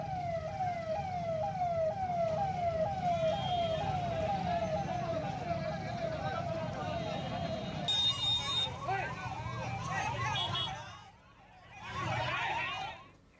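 An ambulance siren wails near a road blockade by political party workers, a repeating rising-falling tone that shifts pitch as it passes, over traffic noise and voices.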